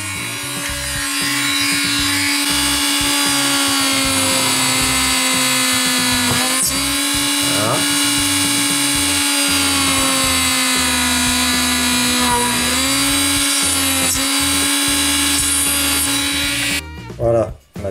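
A Dremel rotary tool fitted with a 1.3 mm bit drills holes in a small model car part, a steady high-pitched whine running continuously up close and ending abruptly near the end.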